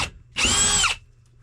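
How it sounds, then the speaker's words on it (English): A power drill bores a pilot hole for a bow cabin door during a boat refit, one short high whining burst of about half a second, close and loud, with no talk. "So I'm going to drill a pilot hole here first."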